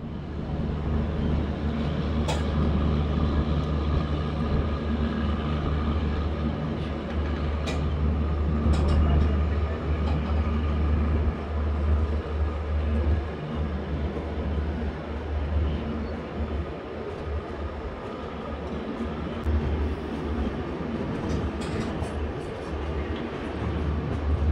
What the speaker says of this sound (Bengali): গুয়াহাটির দিকে সবেগে এগোচ্ছে গাড়ি